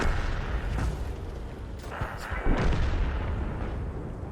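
Tank cannon fire in the World of Tanks video game, with heavy booming blasts over a dense, continuous battle rumble and a voice talking through it.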